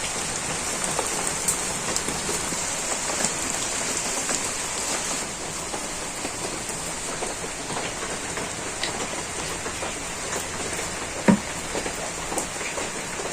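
Steady rain falls on a wetland village on a rainy day: an even, unbroken hiss of drops that stays close and moderately loud, with a few sharper drips near the end.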